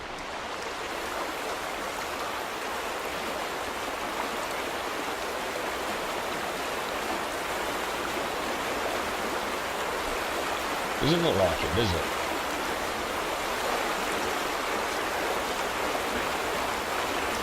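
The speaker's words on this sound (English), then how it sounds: "So we've got water absolutely pouring out the front." Water pours out of a turbine in The Vanishing of Ethan Carter, a continuous even rush like a stream that holds steady throughout, with a short spoken remark partway through.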